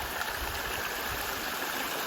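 A creek flows along a hiking trail in the White Mountains of New Hampshire, giving a dense, steady rushing and gurgling close by, with no voices over it.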